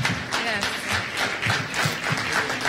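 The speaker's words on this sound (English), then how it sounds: "Yes, you can keep that applause going" An audience at a town hall meeting in Montreal keeps up its applause after an address by the Prime Minister, a continuous patter of clapping with a few more distinct claps standing out.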